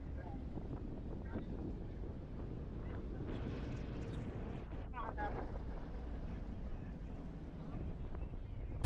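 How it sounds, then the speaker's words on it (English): Steady wind roars past the microphone on a ferry crossing at night, with a low constant rumble of the boat underneath and a brief voice partway through. "Can you hear the wind blowing?"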